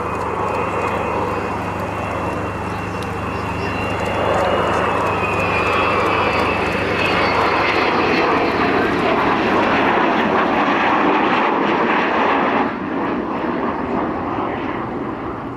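An Avro Vulcan jet bomber built in 1960 flies past at the RAF Cosford air show, a loud sustained engine roar that swells and holds steady throughout, with faint voices nearby.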